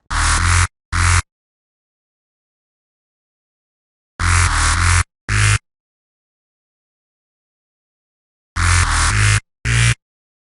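A bass synth patch built in NI Massive plays in short, loud, gritty stabs grouped in repeating bursts separated by long silences, full and distorted across the range.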